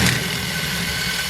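A power drill bores a hole during a 14mm rethread job while an oil catch can is fitted to a Cummins truck: a brief, steady, close motor whine with a droning hum.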